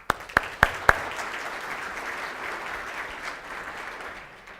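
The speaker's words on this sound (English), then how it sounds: "Quick round of applause for those four." Audience at a 2015 all-company meeting applauding: a few sharp individual claps up front swell into a sustained, even roar of clapping that holds steady before tapering slightly.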